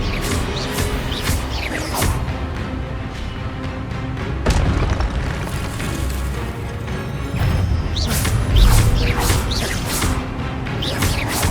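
Spells cast repeatedly in Hogwarts Legacy, including the disarming spell Expelliarmus, heard as a string of loud booms, bursts and swooshing whooshes that keep recurring over continuous game effects.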